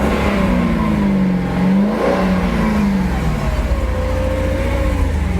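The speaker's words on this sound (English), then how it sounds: "give it a rev, April." A Mercedes E60 Renntech V8, an M119-based 420 hp engine in a 1997 sedan, revs continuously with a deep burbly note, pitch rising and falling in steady swells, loud and close with no talk.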